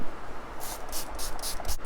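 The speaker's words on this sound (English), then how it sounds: "So I'm just gonna go ahead and spray my face and we'll end it." Matte setting spray misted onto a face in a quick series of about five short, close hissing spritzes over a low background hum.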